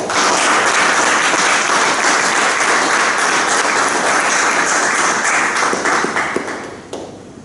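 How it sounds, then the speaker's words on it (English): Loud, dense applause from an audience marking a 400th Toastmasters club session, a steady roar of many hands clapping that fades out toward the end. "I think this requires yet another applause to start with"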